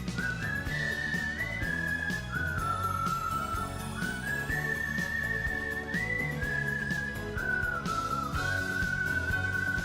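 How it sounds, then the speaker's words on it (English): Whistled melody carrying a Western-style tune from the Wild ARMs 3 video game soundtrack, loud and continuous over a full band backing, the whistle line sliding between sustained notes throughout. "The whistling really sells it as being Western music."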